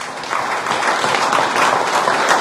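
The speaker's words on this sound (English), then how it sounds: "Can we give a round of applause to Professor Nuwagaba?" Audience applause for Professor Nuwagaba after a talk on Uganda's investment vision, a dense, steady clapping from a full room that holds at a loud level throughout with no voices over it.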